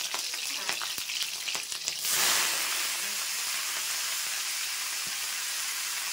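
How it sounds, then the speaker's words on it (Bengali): Black cumin seeds and chillies hit hot oil for frying greens: a quieter crackle, then a loud hissing sizzle surges up after two seconds and carries on steadily, close by. "তো শাক ভাজবো, আমি একটু কালো জিরে ফোড়নে দিয়ে দিলাম, আর দিয়ে দেবো দুটো তিনটে লঙ্কা।"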